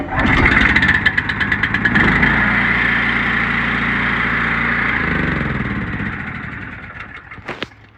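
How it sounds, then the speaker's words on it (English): A Honda engine on a pressure washing trailer is pull-started and runs close by with a rough, rattling roar, then steadies into an even drone before tapering off near the end with a brief clatter. "One of the most reliable engines you can ever buy is a Honda."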